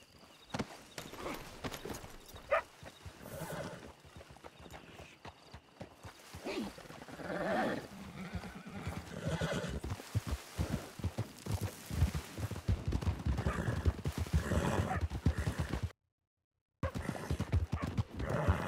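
Horses in the Red Dead Redemption II video game: repeated clip-clop of hooves and occasional neighs and snorts, moving with a steady trotting rhythm, fairly close and busy with faint voices and game sound underneath.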